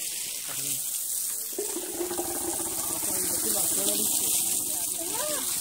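At an elephant camp, water gushes steadily from a pipe with a broad, constant hiss. A voice talks over it near the start.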